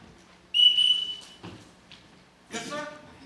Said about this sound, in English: Everybody in this house answers to a whistle.